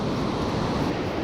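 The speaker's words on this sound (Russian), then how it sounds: "Пойдемте с нами смотреть на это великолепное чудо природы море." Stormy sea surf rolls onto a beach in a dense, continuous roar of breaking waves, fairly loud and unbroken, with no voices.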